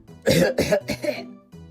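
A short run of three or four throaty coughs close up, followed by a brief softer throat sound.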